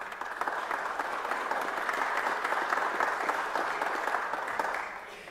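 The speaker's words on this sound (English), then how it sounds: "I hope you'll give him a round of applause" A burst of applause in the Georgia State Senate chamber, dense sustained clapping from a sizeable room that holds steady for about five seconds before tapering at the end.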